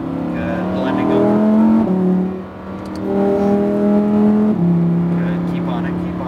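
A Lamborghini Huracan Evo engine pulls hard on a race track, rising in pitch with a brief dip at a gear change before climbing again, loud and close under an instructor's voice.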